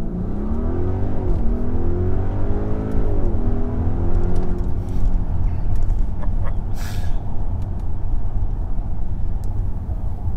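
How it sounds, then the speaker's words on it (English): An Audi RSQ8 roars through a launch-control start, its engine note climbing hard through the revs before giving way to a loud, steady rush of road and wind noise as the SUV keeps accelerating. "I'm just going to do a launch control"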